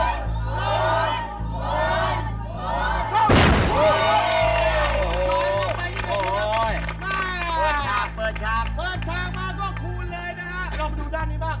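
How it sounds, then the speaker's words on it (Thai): A Thai game show studio audience roars and cheers loudly and continuously, with a sharp boom early on and a host talking over the crowd throughout. "แรงเลิศเชียร์กันเหลือเกินนะครับเชียร์กันเหลือเกิน"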